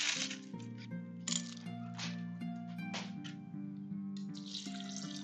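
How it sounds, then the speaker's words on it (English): Water is poured into a bowl holding a handful of ice in a home kitchen, with splashing bursts and clinking ice cubes over a low steady hum, fairly quiet. "Add water to it."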